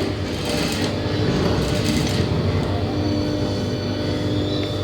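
A sewing machine runs continuously while stitching a blouse lining, a steady close whir and rattle throughout with no talk.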